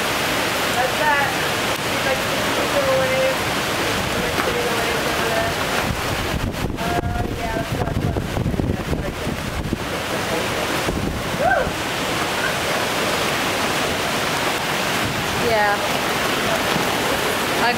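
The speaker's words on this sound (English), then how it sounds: "I'm not sure if you can see the rain even." Heavy rainy-season downpour in Thailand by the sea, a dense steady broadband hiss of falling rain and wind buffeting the microphone throughout, with occasional faint voices underneath.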